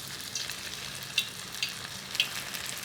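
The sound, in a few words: battered onion rings frying in oil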